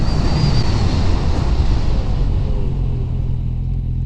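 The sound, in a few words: Suzuki 650 GSXF motorcycle braking and accelerating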